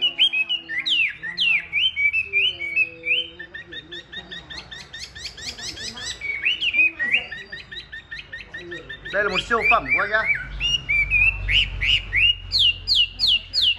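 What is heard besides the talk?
songbird chirping and singing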